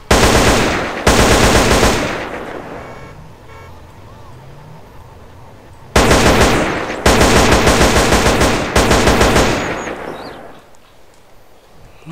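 Automatic M4 rifle bursts in GTA San Andreas, loud sustained volleys of rapid fire from about 0 to 2 seconds and again from 6 to 10 seconds, separated by ringing decay and quieter ambient game noise.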